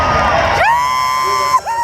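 A large outdoor crowd at a Trump rally near Coachella cheers and whoops, a loud wash of voices that gives way to a long, sustained whistle-like tone rising above the crowd.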